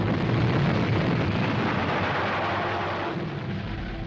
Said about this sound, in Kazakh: Одан кейін тағы жарылыс.